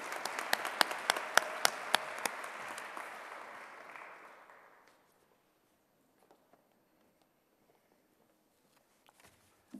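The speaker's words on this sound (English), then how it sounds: "But we can applaud him" Audience applause at a university honors convocation, a burst of crowd clapping that fades out over several seconds, followed by near silence with a few faint knocks and footsteps.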